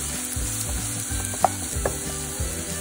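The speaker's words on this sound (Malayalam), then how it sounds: "നന്നായിട്ട് വഴറ്റി കൊടുക്കാം എല്ലാം കൂടി." Split green chillies and softened onions sautéed in a pan for chilli paneer: a continuous sizzle under scraping stirs, with a couple of brief clinks of a spoon against the pan, close up and with no voices.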